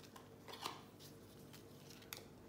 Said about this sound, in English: So we just trim that down like that.